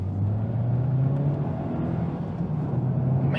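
Steady, loud engine drone and rumble from inside a 2018 Honda Civic Type R under acceleration, with a sustained low engine tone throughout and no talking.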